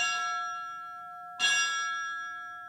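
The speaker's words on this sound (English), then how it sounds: "The bell signifies Christensen's end of service." A ceremonial bell rings twice at a firefighter's memorial service. Each clear, resonant strike lingers and slowly fades, with a pause of about a second and a half between them and no voices.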